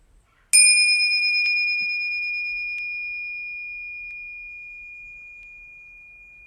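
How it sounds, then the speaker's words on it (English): A single meditation bell struck once during a live tai chi session, giving a clear bright ring with a sharp attack and a long, slowly fading sustain that resonates alone in a quiet room. "We invite the bell to ring."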